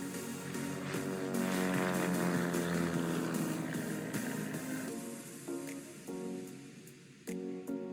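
Aircraft taking off, a broad roaring engine rush with tonal whine that builds and then eases, fairly loud and continuous with a few sharp knocks near the end.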